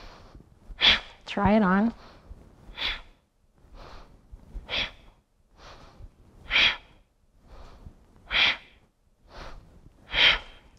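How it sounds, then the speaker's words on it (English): A guided breathing exercise with a repeating pattern of an inhale followed by a sharp, forceful exhale, about every two seconds, heard near and under an instructor's voice. "So it's gonna be an inhale in and a sharp exhale out."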